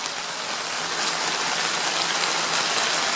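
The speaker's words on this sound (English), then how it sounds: "It's raining pretty good right now." Heavy rain pours in a steady, loud, dense hiss that continues unbroken throughout, with no voices.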